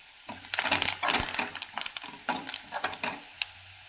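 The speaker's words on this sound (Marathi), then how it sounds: "यात कढीपत्ता टाकून घ्यायचा तो पण असा हलवत राहायचा" Onion and curry leaves stirred in a hot pan with oil, a steady series of scraping, clattering spoon strokes over a faint sizzle, close and fairly loud, no voices.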